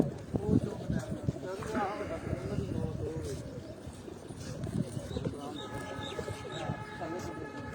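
Pigeons coo repeatedly in a bird-keeping gathering, soft rolling calls mixed with chirps under ongoing nearby talk and crowd chatter.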